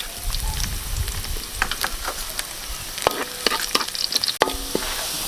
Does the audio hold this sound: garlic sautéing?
yes